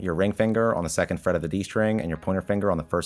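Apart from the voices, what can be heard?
No distinct noise like a dog, phone or traffic.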